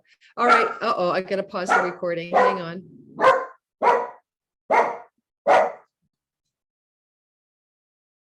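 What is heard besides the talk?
dog barking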